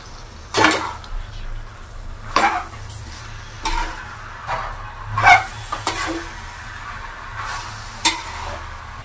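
Banana flower being stirred into spiced potatoes in a pan, several scraping spoon strokes against the metal over a soft sizzle, evenly spaced, close and moderately loud, with no talking.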